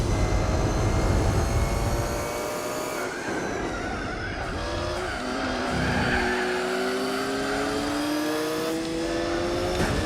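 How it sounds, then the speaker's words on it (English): Race cars drift through corners in the Gran Turismo 4 video game, their engines roaring up close. Long screeching tire squeals rise and fall over the steady engine drone, with no talking. "Some nice drifts."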